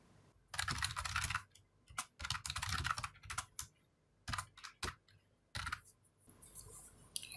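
Quick bursts of keystrokes on a Commodore 64 keyboard while entering assembly code, clicking in uneven clusters separated by short pauses, close and clear with no talking.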